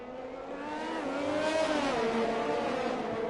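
Race car engines in the F1 2021 video game at the Mexico circuit, including a Ferrari, scream at high revs, pitch rising and shifting as cars pass close by, loud and alone without commentary.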